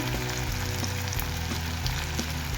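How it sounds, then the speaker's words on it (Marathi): Tomatoes sautéing in a pan with a little sugar for a restaurant-style paneer lababdar gravy, giving a steady, fairly loud sizzle with soft clinks, alone and unbroken throughout. "आपण आता याच्यात टमॅटो घालून घेऊया. त्याला चांगलं मऊ होईपर्यंत परतून घेऊ."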